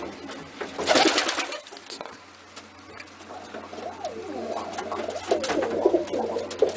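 A pet bird perched close by coos softly in repeated low, rolling phrases. They follow a burst of rustling and scratching, and a person briefly says a word.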